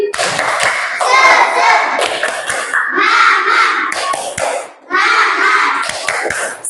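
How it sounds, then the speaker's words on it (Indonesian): A fourth-grade class of children claps a rhythmic spirit clap in a classroom, with their voices chanting along in bursts. "tepuk semangat 2 kali"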